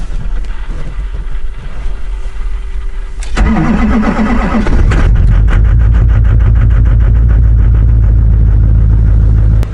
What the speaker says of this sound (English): So we'll give this baby a cold start.